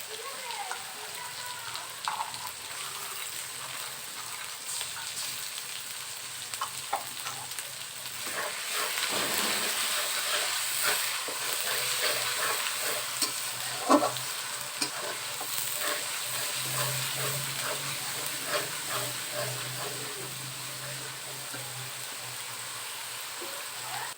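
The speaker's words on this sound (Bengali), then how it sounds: "পেঁয়াজ রসুনটা ভাজা হয়ে গিয়েছে" Onion and garlic paste fry in a pan, a steady close sizzle and crackle with scraping stirs throughout, faint voices murmuring underneath.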